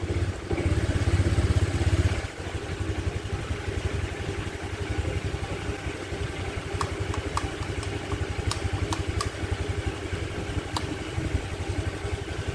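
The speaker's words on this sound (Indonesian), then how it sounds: "Kita coba nyalain mesinnya" A Honda Vario scooter fitted with LED lights starts up and settles into a steady idle, its low even engine chug running close and continuous with faint clicks above it.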